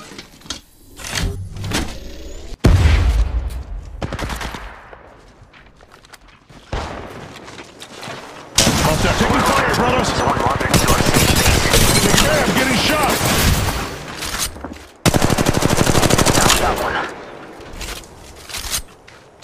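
Gunfire from the mobile shooter Apex Legends Mobile rings out as sharp single shots early on, then long sustained automatic bursts fill the middle and end, loud and close.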